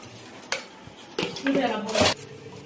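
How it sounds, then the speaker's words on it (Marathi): Gram flour is stirred with turmeric and salt in a metal bowl, with a few clinking scrapes and knocks of a spoon against the vessel and soft, muffled mixing in between. "हे पिठामध्ये छान हळद आणि मीठ मिक्स करायचं आहे आपल्याला"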